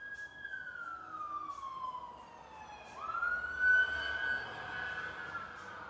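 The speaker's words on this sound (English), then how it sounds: "take those sirens as confirmation" A siren wails steadily, its pitch dipping and then rising again as it holds on, with no voices present.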